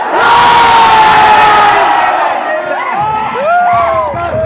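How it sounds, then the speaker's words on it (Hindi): Students at a coaching motivational session in Kota cheer and shout together, a loud sustained crowd roar with high whoops and yells rising over it throughout. "और जेई वाले एक बार शोर मचाओ।"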